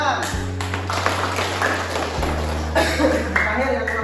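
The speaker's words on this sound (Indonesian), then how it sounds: "Kasih tepuk tangan." A class of students clapping in a classroom: a steady, dense patter of many hands that fills the whole stretch, with a low electrical hum and some voices mixed in.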